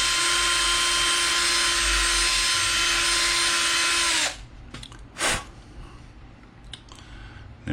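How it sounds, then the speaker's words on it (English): Small power drill cutting away copper traces on a guitar pedal circuit board, a loud steady whine for about four seconds that stops abruptly, followed by a short burst and quieter handling noises. "I also need to drill right after our first capacitor."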